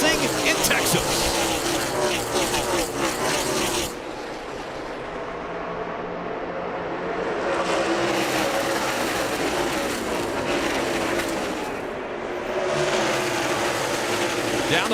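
NASCAR stock cars racing at Texas Motor Speedway, with a loud, steady roar of many engines that swells as the field passes, heard continuously for the whole stretch, and a commentator talking over it.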